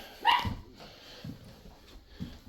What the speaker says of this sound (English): There's a barking dog in there